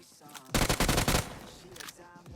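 A loud burst of rapid automatic gunfire in the mobile shooter PUBG Mobile lasts under a second, with a voice speaking before and after it.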